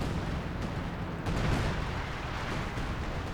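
Artillery shells pounding a contested middle sector in a Company of Heroes 2 4v4 battle on Lienne Forest, a dense continuous rumble of blasts and gunfire with a stronger burst midway, no talk.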